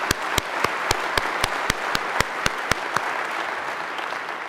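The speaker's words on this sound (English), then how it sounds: "Let's give them a big round of applause" Ceremony audience at a business school hooding applauds the graduates, a sustained crowd patter with one close pair of hands clapping in a crisp, even beat above it for several seconds.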